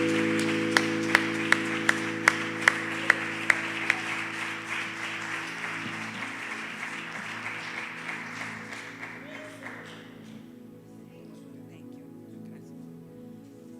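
A church congregation claps in a steady rhythm over sustained musical tones, the claps growing fainter and fading out after about ten seconds.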